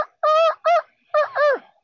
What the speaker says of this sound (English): did you enjoy the big rooster making lots of noise?